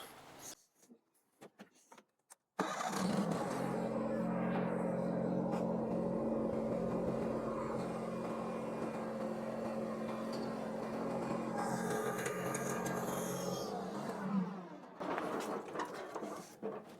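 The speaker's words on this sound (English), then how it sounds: "now I'll back the tractor up and attach this." A lawn tractor's small engine idles steadily at a low drone for several seconds, then cuts off, with faint clatter at the start and end.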